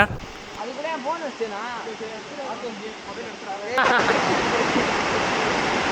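A waterfall in Kodaikanal roars as a steady broad rush of falling water. Voices and calls ring out over it, and the water grows louder and fuller partway through.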